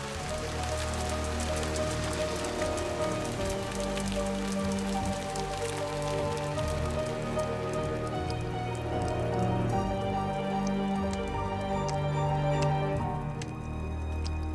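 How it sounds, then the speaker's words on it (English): Steady, dense acid rain pours down, a constant wash of drops drumming on surfaces with dripping throughout, loud and close with no letup. "Acid rain poured from the sky"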